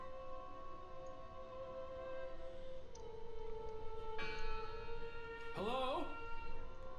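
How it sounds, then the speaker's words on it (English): In the horror game Draugen, a bell tolls at a distance, its faint ringing tones hanging over quiet ambience as clearer strikes arrive toward the end, with a voice calling out briefly. "I heard the bell."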